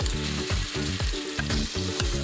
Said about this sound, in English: You don't want to fool with them too much while they're browning.